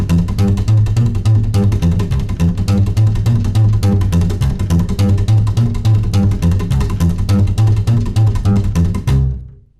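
Rockabilly slap bass walking a steady line in C at full tempo, a dense run of percussive string slaps over a deep, regular pulse, loud and close, playing alone for nearly ten seconds before stopping abruptly.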